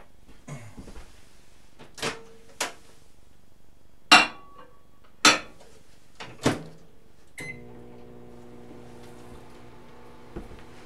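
Several separate clunks and clicks as a microwave door shuts on a casein bioplastic sample and buttons are pressed, followed by the low steady hum of the microwave oven running.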